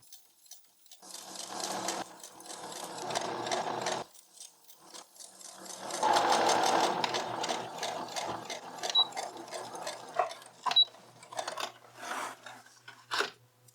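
A sewing machine stitches rows on a thrifted dress, running in steady whirring stretches with brief stops between them, close and clear, with no talk.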